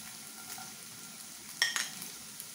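Garlic and a chopped onion fry gently in hot oil, a soft, fairly quiet sizzle with a brief burst of utensil clinks and scraping partway through, no voices.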